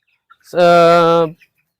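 A native desi chicken at a poultry farm lets out a single loud, drawn-out call close by, with quiet before and after.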